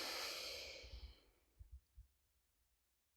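One long, slow breath is pushed out close to the mic during a paced breathing exercise (in for four, out for six). The airy rush fades steadily to near silence.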